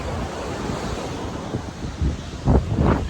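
Ocean waves at a beach roll in under heavy wind buffeting the microphone, with low surf thumps building toward louder crashes near the end and no voices.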